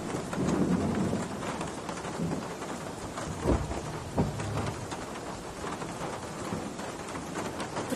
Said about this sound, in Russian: Дождь такой сильный, ты промокнешь.